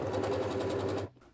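A sewing machine stitches through a thick vinyl or leather key fob with a steady, rapid mechanical whir that runs close and loud for about a second before stopping.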